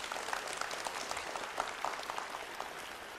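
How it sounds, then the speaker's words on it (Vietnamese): Audience applause for a blockchain ecosystem's core team at a presentation event, moderate clapping that stays steady for a few seconds and sounds slightly distant, with no speech over it. "Chúng ta cùng cho core team một tràng pháo tay ạ."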